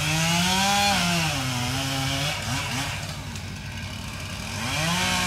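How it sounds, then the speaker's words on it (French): A chainsaw engine roars close by, its pitch dropping and rising as it bites into wood and revs again. "La tronçonneuse et la batteuse, deux concerts."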